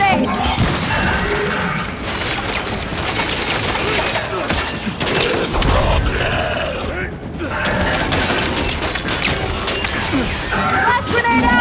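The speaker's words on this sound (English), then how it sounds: "Throwing flash grenade!" A flash grenade goes off amid heavy gunfire in the Gears 5 video game, its burst lost in a dense, continuous wall of combat noise with clanking mechanical clatter and a voice shouting over the din.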